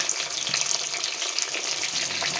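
Mushrooms frying in a pan for a masala mushroom dish, a steady dense sizzle with small pops, close and continuous, with no talking.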